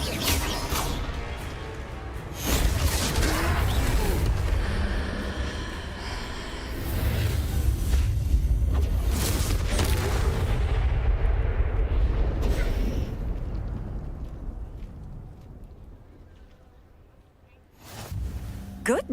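Confringo explosive spell blasts in Hogwarts Legacy during a troll fight, heavy rumbling booms swelling and fading over several seconds, with a sharp burst near the end.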